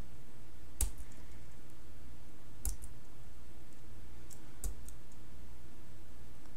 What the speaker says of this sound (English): I'm also just browsing with the keyboard arrows.